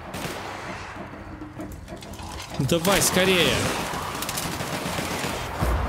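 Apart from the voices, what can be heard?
sawed-off shotgun gunfire in video game The Outer Worlds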